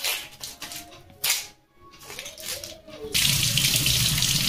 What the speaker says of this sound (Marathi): कांदा वॉश करून घ्यायचा।